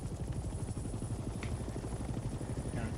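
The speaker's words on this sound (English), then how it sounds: "We are now airborne. Let's get familiar with the three primary helicopter rotations" A helicopter flies in the video game Hell Let Loose: Vietnam, its rotor producing a loud, continuous low thudding chop with a steady engine whine, heard from the cockpit without pause.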